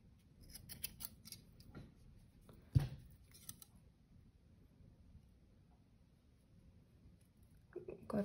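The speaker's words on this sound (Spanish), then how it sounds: "Cortamos también de este lado." Scissors snip through acrylic yarn ends on a small crocheted baby hat, a few soft, quiet cuts with a sharper snap near the middle and another at the end, surrounded by faint handling rustle.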